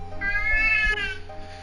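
Cat meowing close and clear, one drawn-out meow with a rising then falling pitch over a low steady hum in the room.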